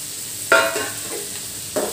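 Chopped leftover roti and sautéed vegetables are stir-fried in a pan. Two quick spatula scrapes sound over a soft, quiet sizzle.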